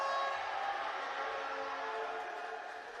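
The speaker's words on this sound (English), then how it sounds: "There was a whistle." A sustained referee whistle at a men's U23 Africa Championship basketball semifinal between Egypt and Libya, a steady shrill tone with layered harmonics holding for about three seconds at fairly loud level, fading slightly at the end.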